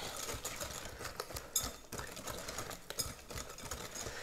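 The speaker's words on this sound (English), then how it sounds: "I'm just gonna give them a little whisk and mix that all together." Eggs are whisked in a bowl with quick, irregular clicking and tapping of the whisk against the bowl, soft and close with no voices.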